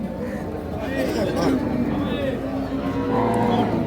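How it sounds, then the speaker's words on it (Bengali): A two-tooth Holstein Friesian dairy cow at a cattle market moos loudly and steadily, close by, over constant crowd chatter and a busy market hubbub. "নিয়ে আসেন গাভী, একেবারে মনের মতো গাভী"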